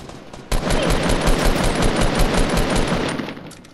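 Gunfire in the video game Fortnite during a squads match: a loud, continuous burst of rapid shots kicking in suddenly and running steadily for about three seconds before easing off.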